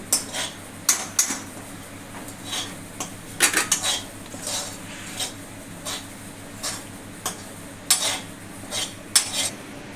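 A metal utensil stirring garlic in a pan, with repeated clinks and scrapes against the pan at an irregular rhythm over a low background sizzle.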